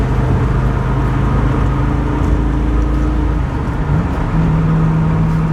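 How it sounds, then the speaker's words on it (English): A 1965 Mustang Fastback GT350 tribute with a 289 V8 and four-speed top loader gearbox drives along, its engine droning loud and steady from inside, with a deep rumble and a pitch shift as it changes gear near the end. "Great sound of this car, man."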